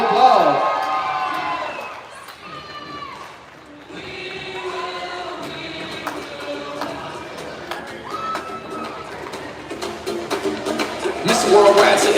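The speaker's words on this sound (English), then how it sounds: "Give them all a round of applause" Crowd in a rodeo arena at a stock show applauds and cheers, a broad wash of noise under an announcer's voice and music, swelling louder toward the end.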